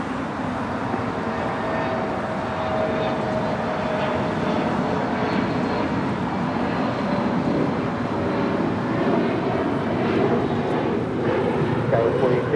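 Airliner engine roar at Los Angeles International Airport (LAX), a steady loud broad rumble and whine holding through the whole stretch with faint voices mixed underneath.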